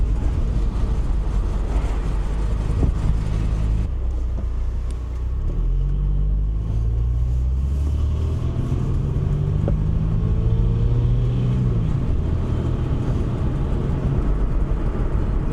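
Mercedes W124 car driving on a road, a steady low engine and road rumble with rising and falling tones as it accelerates and shifts, continuous and close with no talking.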